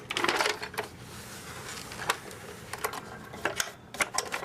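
Decade 80 upright vacuum cleaner being handled and flipped over with its bag removed, giving a series of sharp plastic clicks, knocks and rattles at irregular intervals, close and moderately loud, with no talk.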